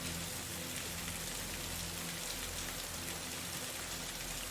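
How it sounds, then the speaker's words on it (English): Steady rain falling on surfaces as a dense, even hiss, gentle and constant throughout without pauses or other sounds. "Let the rain begin to fall upon your shoulders, gentle but steady"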